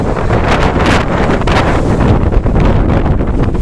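Strong storm wind roars continuously and loudly, buffeting the microphone with heavy rumbling gusts, and no voices can be heard.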